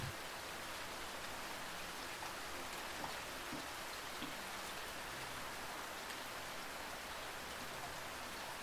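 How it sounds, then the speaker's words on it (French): Steady rain falls in a city at night, spattering onto wet pavements in an even, continuous hiss that holds at moderate loudness throughout, with no voices. "Sentez l'odeur caractéristique de la pluie."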